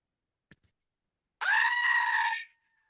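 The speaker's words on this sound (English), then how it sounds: "One screaming goat when you got home today." A screaming goat sound effect: after two faint clicks, a loud, harsh, human-like goat scream bursts out and holds for about a second before cutting off, alone with no talk.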